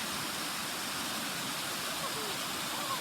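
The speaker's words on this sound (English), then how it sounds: "It's a pretty little waterfall." A waterfall at Deep Creek, North Carolina, rushes in a steady, broadband roar, constant and close, with no pauses or other sounds standing out.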